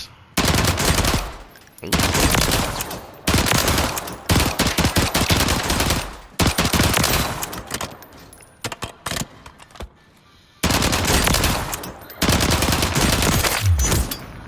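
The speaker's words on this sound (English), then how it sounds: "But the DR79 is pretty reliable. 50-round drum. And this is how it shoots." The DR79 rifle with a 50-round drum magazine fires in Warzone, loud sustained automatic bursts in several long strings separated by brief pauses, with a short exclamation from a player.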